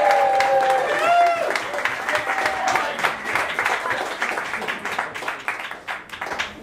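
Applause rises from the audience at a Weston-Super-Mare versus Bristol poetry slam as the next poet is introduced, dense clapping mixed with crowd noise and a few tonal sounds and voices early on.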